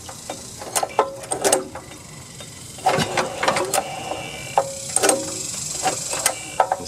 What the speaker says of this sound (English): I'm going to pull on the pull rope here.